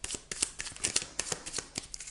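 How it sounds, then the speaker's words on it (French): Cards drawn from a deck during an astrology card reading, a quick run of crisp, close paper flicks and slides, quiet and alone. "Donc, je vais tirer une carte."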